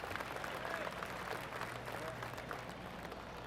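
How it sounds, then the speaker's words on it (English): Soft, steady golf-crowd applause in the video game PGA Tour 2K25, a continuous patter of clapping from a small crowd at moderate distance with faint murmuring underneath. "Oh, golf clap."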